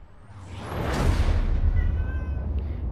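A pet cat meows in a drawn-out call over loud, noisy background sound from a Star Wars Battlefront II game session, with no talking.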